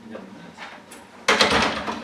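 A door swings shut in a council meeting chamber before a regular session, a sudden full-bodied thud followed by a brief rumbling tail over quiet room murmur.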